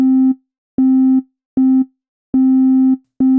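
Synth envelope notes run through a Mutable Instruments Veils exponential VCA, five sustained buzzy tones of uneven length, each starting sharply and fading quickly, with silence between them.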